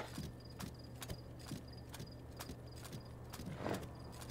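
Horse hooves in the game Zelda: Tears of the Kingdom clip-clopping steadily while climbing, an even rhythm of crisp distinct steps about twice a second over a faint background hum.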